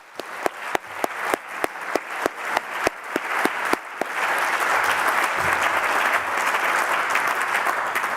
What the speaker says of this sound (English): Can we just have a round of applause for Ray and Russell